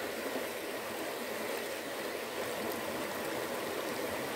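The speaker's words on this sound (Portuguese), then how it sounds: "Olha que fartura, água caindo de inteiro. Água gelada." Cold water pours steadily down a natural stream or small waterfall in a refreshing outdoor spot, a continuous broadband rush with no breaks, close and fairly loud, with no voices over it.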